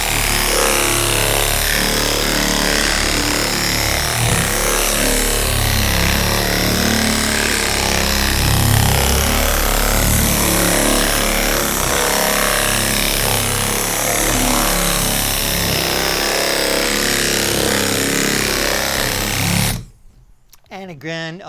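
An air-powered sander works epoxy on a Sunfish sailboat deck in a restoration shop, a loud steady buzzing drone that runs nearly unbroken for about twenty seconds and then cuts off abruptly, with a voice talking over it.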